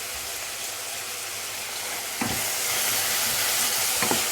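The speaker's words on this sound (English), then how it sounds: "And we're still frying." Chicken pieces seasoned with salt and pepper frying in a pan on a stove at full heat, a continuous bright sizzle and hiss that swells louder midway, with a couple of sharper crackles and no talking.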